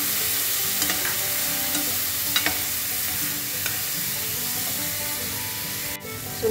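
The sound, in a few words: shrimp paste added to squash and okra in coconut milk, stirred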